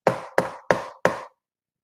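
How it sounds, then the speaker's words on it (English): Four evenly spaced, crisp knocks or taps ring out close and loud in a spooky tale, each with a brief hollow decay, then silence. "awoken from the dream by a strange tapping sound"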